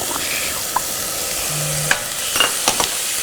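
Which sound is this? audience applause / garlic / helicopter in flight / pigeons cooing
garlic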